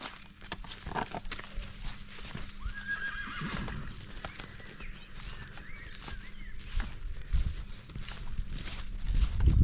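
A mare whinnies loudly over the steady clip-clop of hooves walking, with shuffling and rustling around it outdoors.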